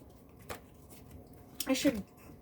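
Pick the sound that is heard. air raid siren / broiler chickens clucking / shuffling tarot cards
shuffling tarot cards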